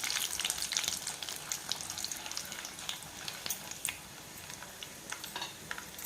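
Mustard seeds splutter and crackle in hot oil in a pan for a drumstick-leaf curry, with a steady close sizzle broken by many sharp, irregular pops and no voices.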